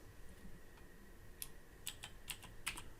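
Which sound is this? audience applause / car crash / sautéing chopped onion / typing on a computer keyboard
typing on a computer keyboard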